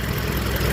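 A Toyota Innova engine with a suspected connecting rod knock runs steadily at idle, a close, continuous low mechanical rumble with a faint repetitive knocking texture throughout the short stretch.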